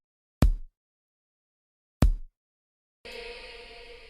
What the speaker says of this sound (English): It all starts with the kick.